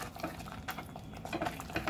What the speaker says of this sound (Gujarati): સરસ હલાવી લઈએ આપણે આને.